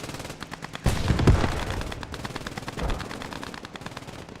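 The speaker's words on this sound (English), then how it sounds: "I keep hearing that cannon fire." Heavy gunfire from a World War II battlefield in the game Post Scriptum, with a loud booming blast around the one-second mark, a second thump shortly after, and a steady crackle of distant rifle and machine-gun shots throughout.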